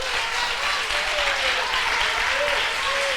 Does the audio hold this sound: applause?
yes